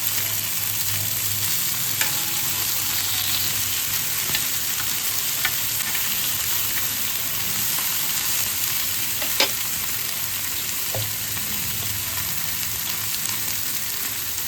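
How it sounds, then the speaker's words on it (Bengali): Chicken pieces fry steadily in hot oil in a pan, a continuous bright sizzle with occasional soft clinks of a utensil, no voices over it. "এদিকে চিকেনের আর এক পিঠও খুব ভালোভাবে ভাজা হয়ে গেছে।"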